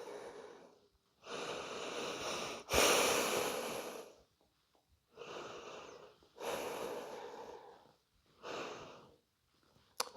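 Slow, deep breaths drawn and released during a yoga puppy pose in a back-care routine, about four long airy inhale and exhale cycles, close and soft with quiet gaps between them.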